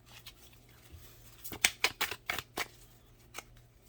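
Tarot cards riffled and shuffled close up in a quiet room, a cluster of crisp papery flutters and snaps in the middle, with soft handling rustles before and after and no talking.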